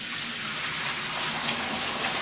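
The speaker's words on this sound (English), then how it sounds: "We'll rinse it off as such, like that, and then of course the salt water here will dump out." Running water splashes steadily as a salted Christmas ham is rinsed and the salt water drains away, a close, even hiss with no talking.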